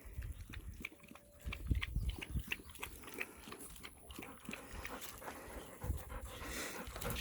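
Dogs play roughly, an adult panting hard and scuffling with a pup, with quick breaths, snuffles and small bites close by and no speech.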